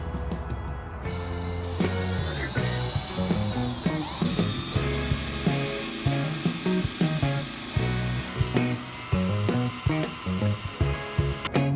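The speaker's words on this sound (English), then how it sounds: "first we want to drill kind of a pilot hole so that when we use the larger drill bit, it has less problems getting started" Power drill boring a pilot hole in metal for a heavy-duty puck lock box on a shipping container, a loud close whining grind with stuttering bites and pauses throughout.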